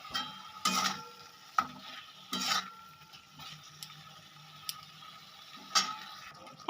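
Spatula stir-frying spice paste with fried potatoes and broad beans in a pan, several distinct scraping strokes and clicks spaced apart over a low sizzle.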